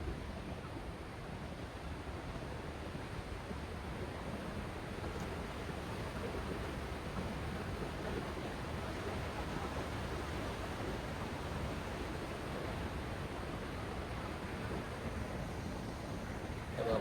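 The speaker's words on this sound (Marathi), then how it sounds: "बघा, मस्त पाणी वाहत आहे." Water rushes steadily through a narrow mountain passage near Peyto Lake, a constant broad roar that holds at the same level throughout, with no voices over it.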